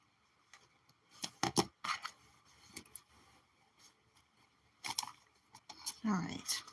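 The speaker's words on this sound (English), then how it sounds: "This one we need to trim up a little better." Scissors trim paper for a junk journal in short bursts of close, crisp snipping and rustling, set apart by quiet pauses.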